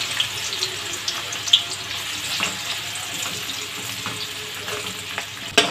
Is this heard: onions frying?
yes